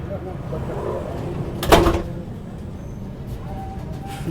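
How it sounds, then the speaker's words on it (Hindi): A Tejas Express train door, the executive-class carriage of the Lucknow service, is pulled shut by hand, giving a single sharp thud near the middle amid steady onboard background noise. "मैं वेट कर रहा था कि दरवाज़ा बंद होगा,"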